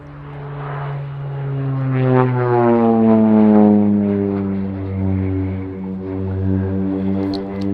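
An OV-10 Bronco at an airshow at RAF Cosford passes close and loud with a steady propeller drone. Its pitch slides downward in a clear Doppler sweep as the twin-turboprop aircraft opens up toward high speed, and no voices are heard.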